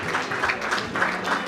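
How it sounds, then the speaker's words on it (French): An audience at an award ceremony claps steadily, a dense, fairly close wash of applause with slight pulses in intensity, no voices over it. "Applaudissez très fort pour elle."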